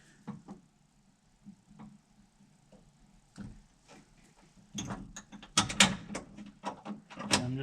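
A hand riveter sets a rivet in a 1967 Mustang seat belt mount, giving faint clicks and knocks early, then louder, sharper mechanical squeezing snaps near the end.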